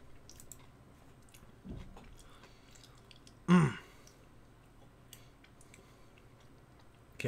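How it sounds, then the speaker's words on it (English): Loud close-up chewing and biting noises come in short bursts: a soft crunch near two seconds, a sharp loud bite around three and a half seconds, then another at the very end, with quiet mouth sounds in between. "I can't think because I'm chewing too loud."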